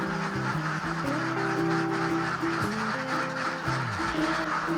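More than a thousand ducks of several breeds quack and honk on a duck farm, forming a dense, overlapping chorus of nasal calls that carries on without pause.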